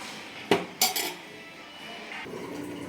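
Black mutton curry being served onto a plate, with a few sharp metallic clinks and scrapes of a spoon on the dish close by, then quiet clatter fading.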